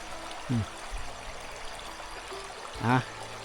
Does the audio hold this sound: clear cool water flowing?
yes